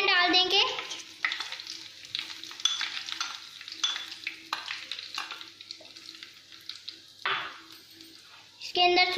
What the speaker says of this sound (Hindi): हमारा जो घी था वो मेल्ट हो गया, अब हम इसमें बेसन डाल देंगे।